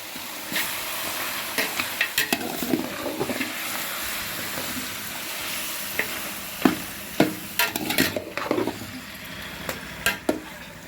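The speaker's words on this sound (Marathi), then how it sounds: "लसूण आणि आलं आपलं चांगलं भाजलंय त्यातच टाकूया आपण आता हे मटण मिक्स करून घेऊया" Country chicken mutton is being stirred and fried with garlic and ginger, giving a continuous sizzle broken by repeated sharp scraping and clattering strikes of a spoon against the pan, loudest in the second half.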